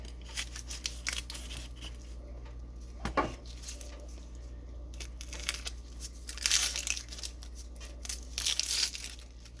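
Papery skin being peeled and torn from a white onion, close up, with soft crinkling and tearing bursts that come and go against a low steady kitchen hum.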